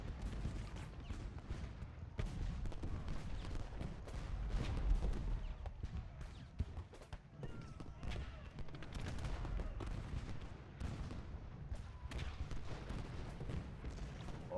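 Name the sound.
artillery counter-battery fire in the video game Ultimate General Gettysburg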